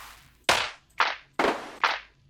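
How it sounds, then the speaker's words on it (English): Four crisp, dry lo-fi claps from a Wave Alchemy Triaz drum machine play alone in an even, spaced pattern, each with a sharp attack and a short decaying tail. "I want clap and step. I want lo-fi."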